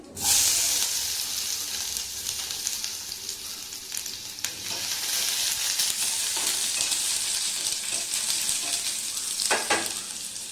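Chopped onions fry in hot oil in a home kitchen pan, a loud steady sizzle and hiss with occasional stirring scrapes, close and continuous with no talking.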